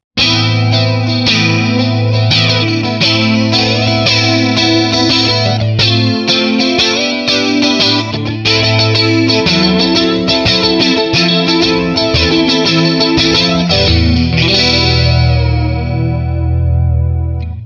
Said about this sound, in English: sounds like a great flanger to my ears